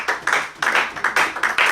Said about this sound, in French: On acclame d'abord pour la parole de Dieu